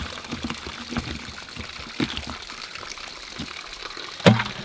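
Tap water runs steadily over a fish being rinsed clean, a soft continuous splash with a few sharper knocks and one louder clatter near the end.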